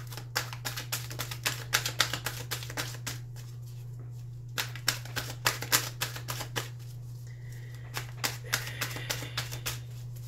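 A tarot card deck is cut and shuffled by hand, giving a long run of crisp riffling and slapping card sounds in irregular bursts over a steady low electrical hum, with no talking.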